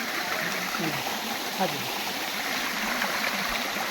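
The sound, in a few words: waterfall falling with strong water flow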